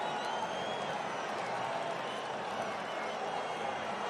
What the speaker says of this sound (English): Padre fans finally something to cheer about.